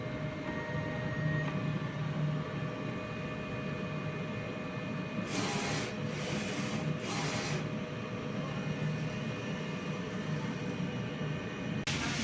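DTF printer running a nozzle test, a steady mechanical whir with faint tonal hum and a few brief bursts of hissing print-head movement, with no one speaking.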